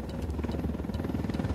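Helicopter in the video game Ghost Recon Wildlands, a steady low rotor thrum with rapid rhythmic chopping that holds evenly throughout, fairly close and continuous with no talk over it.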